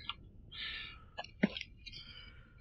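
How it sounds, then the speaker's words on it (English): A single sharp human sneeze in a quiet room during a Mass Effect 2 gaming session, short and fairly close, with a faint breathy intake just before and soft hissy noise after. "I'm sneezing."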